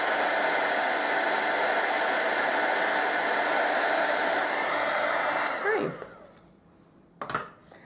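Close, loud embossing heat tool blowing steadily as it heats a stamped lace image on a paper gift tag, a continuous rushing fan noise that cuts off near the end, followed by a brief clack.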